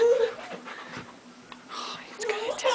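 A Rottweiler pants close by in quick, breathy bursts with faint whimpers mixed in, and soft voices can be heard around it.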